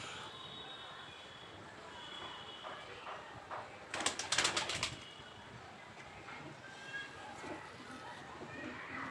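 A single-tailed pigeon coos softly and faintly against low background noise, with a brief louder burst of sound partway through.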